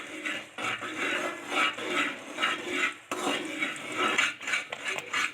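A spoon scrapes and clanks against a pan as Mysore pak batter is stirred, giving close, uneven repeated metallic scraping strokes.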